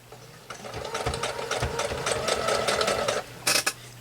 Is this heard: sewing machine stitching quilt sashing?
yes